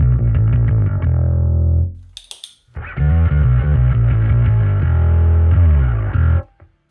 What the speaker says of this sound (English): Here's with the distortion.